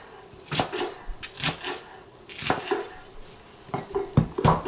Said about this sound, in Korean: 대파 좀 이렇게 어슷어슷 썰어 놓고